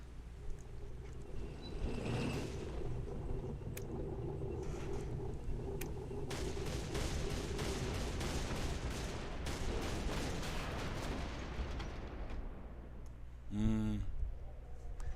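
Heavy tank cannon shots from a Panzer in a Battle of the Bulge PC war game crack out in a dense series of sharp booms, with a voice talking over the gunfire throughout.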